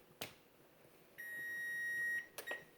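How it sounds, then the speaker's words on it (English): An electronic kitchen timer goes off in a kitchen while herb fougasse bakes, giving a sustained high beep of about one second after a couple of faint clicks, with soft handling taps near the end. "the timer is just about ready to go off"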